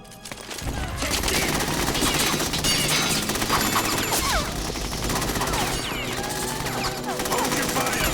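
Dense video game gunfire from Metal Gear Solid 2 rattles almost continuously for the full length, with bursts of automatic fire, scattered shots and crashing impacts layered over a low rumble.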